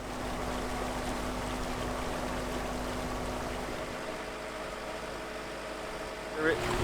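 A sailboat's engine runs steadily at close range, a low constant drone with a faint hum, and there is a brief knock near the end.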